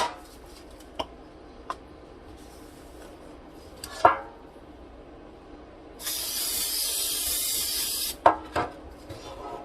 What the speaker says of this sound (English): So I'm going to spray the pan.